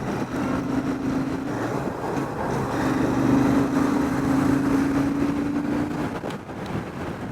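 A Royal Enfield Super Meteor 650 motorcycle cruises along in third gear, its engine a steady, even drone mixed with wind rush, holding constant throughout with no speech.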